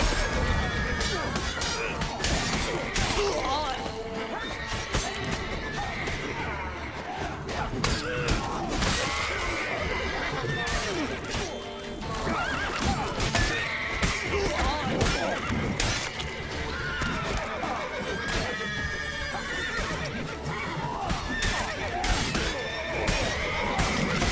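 Horses neigh and whinny repeatedly amid hoofbeats, clashing and shouting in a dense, loud video game battle scene with constant background commotion.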